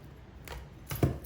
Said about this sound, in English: And no scissors, wire cutters.